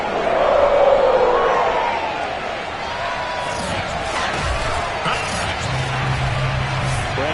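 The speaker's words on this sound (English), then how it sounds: "The enthusiasm of this Cincinnati crowd in full effect a moment ago as their Bengals took the field to the delight of this sold-out crowd." Sold-out Cincinnati stadium crowd cheering for the Bengals at an NFL game against the San Francisco 49ers, a loud continuous roar of many voices that swells early and stays dense throughout.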